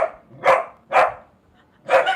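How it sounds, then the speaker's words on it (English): A dog barks three times, in sharp, fairly loud yaps spaced about half a second to a second apart, with quiet gaps between them and no talking. "Alex just forgot to bark, and he realized he's late"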